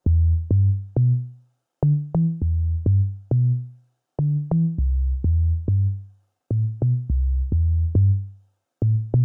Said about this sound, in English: one of the most popular melodic pattern for the bass